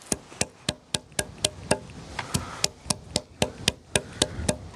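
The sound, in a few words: hammer chopping plant roots for compost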